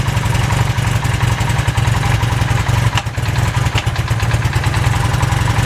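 A Honda CB400 motorcycle engine idles loud and close with a steady rapid pulse, slightly misfiring and uneven, running straight off the alternator.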